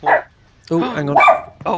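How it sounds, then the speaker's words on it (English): A few loud, close barks from a pet dog, coming in short bursts mixed in with a man's brief exclamations. "That's my dog."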